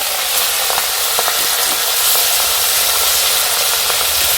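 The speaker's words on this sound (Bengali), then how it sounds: "এটা ভোলা মাছ রান্না হচ্ছে" Bhola fish frying in a pan, a steady loud sizzle with crackling pops throughout, close up and uninterrupted, with no voices.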